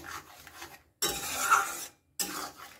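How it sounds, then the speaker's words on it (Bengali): Cashew-based gravy stirred in a pan with a spoon, for a chhana and pointed gourd curry: close scraping and rubbing strokes in two bursts separated by brief silences, fairly quiet, with no talking. "এখন এটাকে খুব ভালো করে কিন্তু একটু নাড়তে হবে, তা না হলে যেহেতু কাজু আছে নিচে লেগে যেতে পারে"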